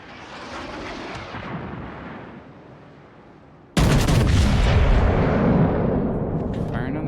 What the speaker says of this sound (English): Firing on the Charles Martel